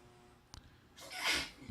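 A single sharp sneeze bursts out close by after a brief breathy intake, standing alone against a quiet room.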